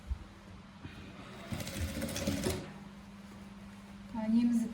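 Sewing machine stitching a patchwork Kazakh ethnic bag, about 1.5 cm from the edge: a short whirring run in the middle, then another brief burst at the end, close and moderately loud with a quiet voice talking around it.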